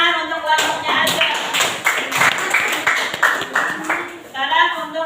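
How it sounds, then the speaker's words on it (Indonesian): A classroom group claps for fellow students presenting on the water cycle, a loud, close burst of hand clapping with uneven rhythm and voices talking through it. "maju tepuk tangan untuk kelompoknya aja"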